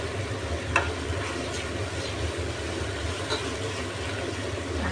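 Stirring noodles in a pan to dissolve Maggi chicken cubes while making pancit canton guisado, a steady soft sizzle and scraping of the stirring under a low continuous hum, with a few faint clicks.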